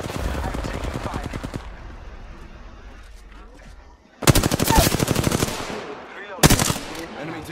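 Apex Legends gunfire: rapid automatic bursts rattle loudly, one long burst, a brief pause, then two more bursts, with in-game voices heard alongside.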